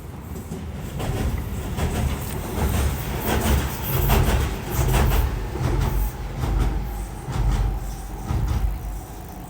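Trains rumble past at Stratford, London, with a loud, continuous roar and rhythmic clacking of wheels over rail joints, heard close up and steady with no talk.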